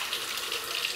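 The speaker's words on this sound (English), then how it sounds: "We're going to add water." Tap water runs steadily from a faucet while a shave with a G.S.C FatGuy, a FatBoy replica safety razor, is under way; a close, even hiss of flowing water with no voices.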